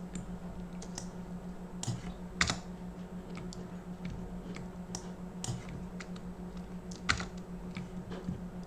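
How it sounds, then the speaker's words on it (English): Computer keyboard keys typed while working in Figma, scattered soft clicks and a few sharper taps over a low steady hum, close and fairly quiet. "I select the point that I don't want and I press Shift Backspace."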